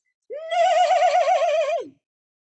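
A person's voice imitates a horse neigh, a single sustained whinny with a wavering tremolo that rises, holds for over a second and drops off at the end, close and loud with no other sounds.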